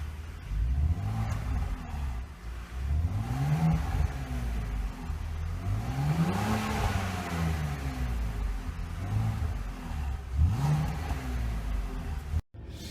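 A BMW Z4 E85 3.0 litre with 231 PS and its original exhaust system revs repeatedly, five rising and falling throttle blips in a loud, close rumbling drone, ending in an abrupt cut.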